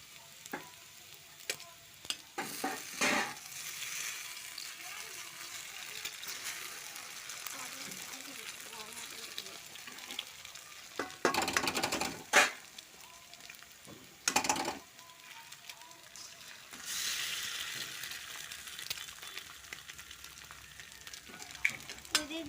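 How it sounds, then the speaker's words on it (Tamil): Egg poured into a hot pan with ginger paste for fried rice, a steady broadband sizzle with scraping stirs and a few louder bursts, heard close up under occasional speech. "முட்டையை வச்சு ஊற்றிக்கலாம்."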